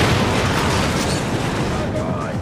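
A helicopter exploding in the video game Far Cry 4, a loud dense rumbling blast that fills the whole short moment with sustained low roar and debris noise.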